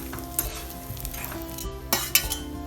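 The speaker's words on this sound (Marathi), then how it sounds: "आपण डिंक सुद्धा तुपामध्ये तळून घ्यायचं आहे।" Edible gum frying in ghee in a pan, a lively crackling sizzle with a metal spoon stirring and clinking against the vessel, several sharper scrapes and pops near the end, no voices.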